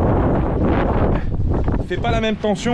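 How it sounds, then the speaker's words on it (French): Wind buffets the microphone in gusty roaring rushes aboard a Zodiac inflatable boat, loud at first, then someone speaks over it. "Il y a du vent."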